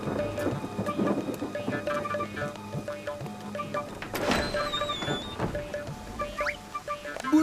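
Steady rain falls with rumbles of thunder rolling through, along with scattered sharp ticks and a brief high whistling tone midway.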